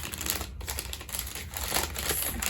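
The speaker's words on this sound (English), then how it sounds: "sorry for the rustling." Dense crinkly rustling from unpacking knitting giveaway goodies such as wool wash, continuous and close, with rapid crackly packaging noises and no talk.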